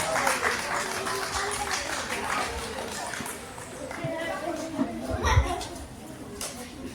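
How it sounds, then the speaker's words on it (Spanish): An audience at a tribute event for writer Francisco Izquierdo Ríos gives a round of applause, with scattered clapping strongest early and fading, and voices murmuring underneath. "Muy bien, fuerte aplauso para Andy."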